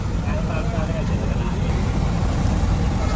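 A Star Air passenger airliner's engines roar loud and steady at an airport apron, a continuous broadband rumble with a thin high whine running through it.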